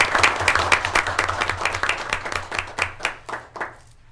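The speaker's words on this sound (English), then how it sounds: "Let's give him a round of applause." An audience at a school board meeting applauds a teacher award with steady, dense hand clapping that carries on for several seconds and then thins out and fades near the end.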